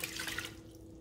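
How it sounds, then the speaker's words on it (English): Water pours steadily into a Toddy cold brew system, a brief hissing splash that eases off toward the end, with no talking. "you're gonna need 9 cups of water"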